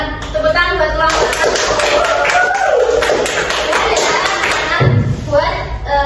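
Students in a classroom clap for a group during an Islamic jurisprudence (fikih) lesson, a moderately loud burst of scattered clapping and taps with voices mixed in throughout.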